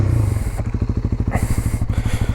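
A small motorcycle with an aftermarket exhaust idles up close with a loud, lumpy, rapid putter, its beat wavering slightly as the revs dip and recover, and no voices over it.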